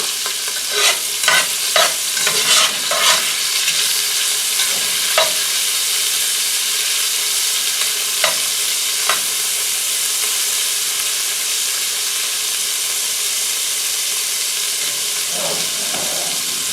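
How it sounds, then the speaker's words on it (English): Small beef pieces searing in a cast iron pot, a steady bright sizzle and hiss throughout, with a cluster of scraping stirs near the start and a few sharp clinks later, no talking. "I just want to give them a nice little sear."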